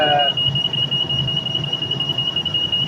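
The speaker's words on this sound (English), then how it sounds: "if it alarms, you can silence the alarm and investigate the problem." A PECVD machine's steady, high-pitched electronic alarm tone sounds continuously at moderate loudness, with a brief burst of voice at the very start.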